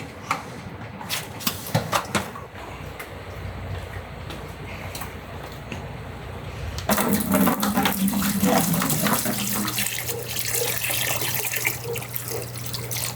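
Water splashes as reverse osmosis water is poured from a jug into a bucket, growing fuller and steadier partway through, close and moderately loud.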